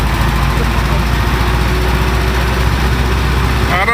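The engine of a Ford Model A car drones steadily in a high gear while driving, a loud close buzzing rumble with constant vibration and a voice talking over it.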